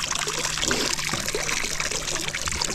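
Water trickling and dribbling out of junk pulled from a lake while crappie fishing, a soft, continuous splashing close by under faint background noise.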